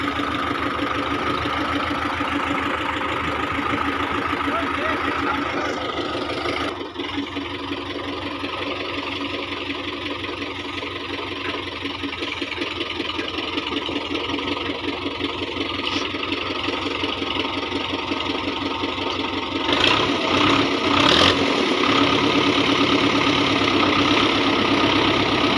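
A Russian Belarus tractor's diesel engine runs steadily for the whole stretch, a loud close idling rumble with a regular knocking pulse that swells slightly near the end; no talking.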